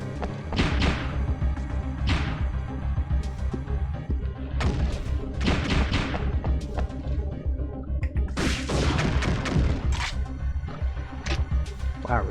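Gunfire in the survival horror game Parasite Eve 2 comes as sharp, loud shots and crashing impacts that break out in clusters and then pause, with several dense bursts close together.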